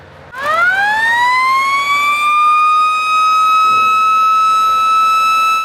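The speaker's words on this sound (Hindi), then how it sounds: "हम ब्लास्टिंग वैन में लगे हुए सायरन को 1-1 मिनट के अंतराल में 3 बार बजाते हैं" A blasting van siren at a mining site winds up from silence and holds a steady, sustained wail at full volume, with no voices.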